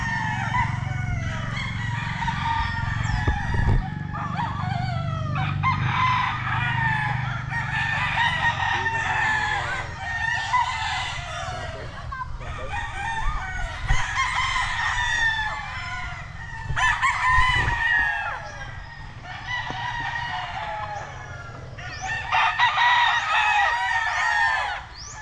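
Roosters at a gamefowl farm in Medellin, Cebu crow repeatedly, one call after another at a steady pace, with several birds overlapping at moderate distance and low background noise throughout.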